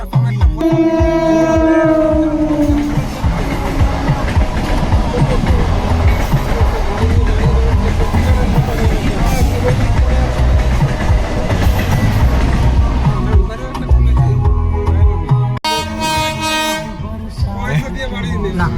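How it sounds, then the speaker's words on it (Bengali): Trains pass a railway crossing one after another, with several rumbling through in a long, loud, continuous clatter of wheels and cars. Train horns sound near the start and again at the end. "সো তোমরা দেখতেই পাচ্ছ এখনও পর্যন্ত চার চারটে গাড়ি পাশ করছে"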